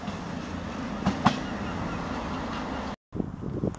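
Class 170 diesel train passing through Kirkcaldy station, a steady loud rumble and rush filling the clip with a faint horn-like tone in the middle, cut briefly near the end before the noise resumes.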